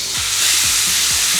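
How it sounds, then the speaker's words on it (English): Steady, bright sizzling of chicken frying in a hot pan, loud and close, with a few soft scraping stirs underneath. "Now when you put them in the pan, you want to hear a sizzle."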